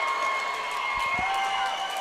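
Loud, continuous crowd noise filling an arena during a lacrosse semi-final playoff game between Whitby Warriors and Orangeville Northmen, a steady roar with a few low thumps near the middle and no clear talk.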